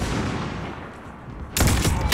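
Gunfire from a headshot kill in Call of Duty Warzone bursts out loud and close after a rumbling game backdrop, a dense crackle of rapid shots.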